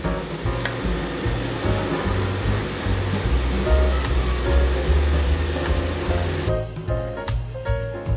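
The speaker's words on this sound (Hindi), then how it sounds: "इसी तरह बाकी की ब्रेड को भी हम देसी घी में फ्राई कर लेंगे।" Bread slices fry in desi ghee with a dense, steady sizzle and bubbling hiss up close, plus occasional clinks and scrapes of a utensil, with no talking.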